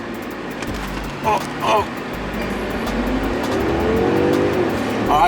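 Tuned Mercedes-Benz launching and accelerating, its engine droning steadily and building in pitch as speed climbs, heard from inside the cabin with a brief voice exclamation over it.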